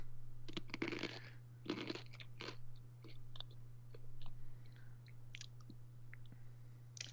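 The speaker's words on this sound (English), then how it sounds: "I could just hear munching in the background" Someone munching on food nearby during a card game testing session, with crunchy chewing bursts in uneven clusters over a low steady hum.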